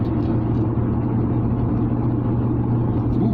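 Lexus LS400 engine accelerating hard, a steady loud low rumble heard from inside the car, continuous throughout without a clear rise in pitch.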